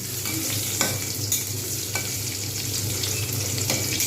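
Steady sizzling and crackling of whole spices tempering in hot oil, with a few soft stirring clicks and no talking.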